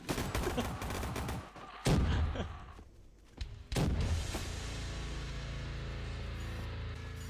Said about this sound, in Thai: ยิงแทรกไประหว่างช่องแขนแล้ว